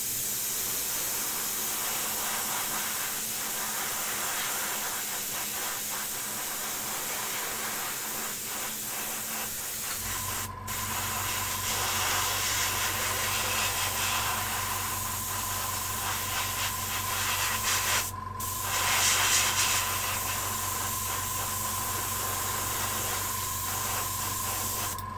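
An airbrush sprays bright white paint onto a model figure with a continuous, even hiss. Partway through, a low steady hum joins it and lasts to the end.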